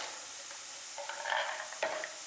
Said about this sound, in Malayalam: ഇതിലേക്ക് നമുക്ക് ഒരു മൂന്നാല് അണ്ടിപ്പരിപ്പും കൂടി ഇട്ട് കൊടുക്കാം